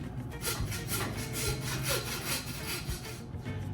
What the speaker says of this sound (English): Now, as I'm sawing, I'm pushing down on the sternum.